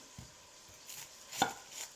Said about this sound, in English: get my onion sliced up.